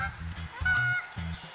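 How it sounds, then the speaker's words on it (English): A lone goose near a swamp gives a few short honks, moderately close, amid rustling and low background noise. "There's a lone goose."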